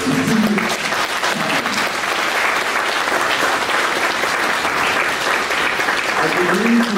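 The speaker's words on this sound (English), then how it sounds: "give a big hand, a very big hand, round of applause to our" Sustained audience applause at a stakeholders meeting, a loud, steady wash of many hands clapping that fills the room throughout, with faint voices murmuring beneath it.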